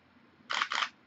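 A quick two-shot burst from a Nikon D600 shutter fired via a Vello BG-N10 battery grip release, two crisp mechanical clacks close together, loud and close in an otherwise quiet room.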